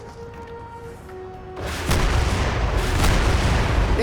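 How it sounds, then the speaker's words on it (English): Tank cannon fire in the video game Crysis: a quiet stretch with a faint tone gives way to a loud, heavy blast and booming rumble, then a second sharp report near the end. "this tank is pushing"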